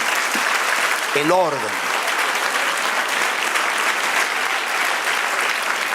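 A church congregation claps in a steady, dense wash of applause that fills the room, with a brief voice cutting in near the start.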